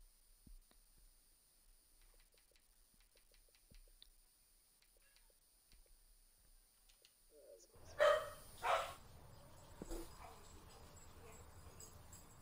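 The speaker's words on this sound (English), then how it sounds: "No, that wasn't anything that you needed to bark at." A dog barks in a home a few times in quick succession, loud against a quiet background with faint clicking, and a person talks afterward.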